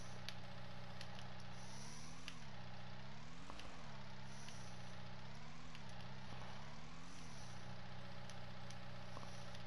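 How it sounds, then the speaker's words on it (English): A tractor engine idles steadily in Farming Simulator 19, a low droning hum that dips and rises in pitch several times, heard alone and quite faint. "then start the engine"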